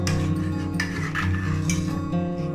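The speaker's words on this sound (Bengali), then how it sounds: "চিনি দিয়ে একটু মিক্স করে নিলাম।" Milk boiling with sugar in a pan is stirred while making laccha semai, a spoon scraping and clinking against the pot over a steady simmering hiss, close and continuous.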